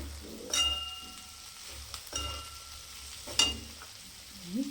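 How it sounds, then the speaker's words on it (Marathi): Capsicum fried with salt and coriander is stirred in a pan, giving a quiet, soft sizzle with a few scraping strokes and a light clink or two, fairly faint and without talk. "मीठ टाकून घेणार आहे भाजीत आणि कोथिंबीर टाकून घेणार आहे आणि आपण हे हलवणार आहे"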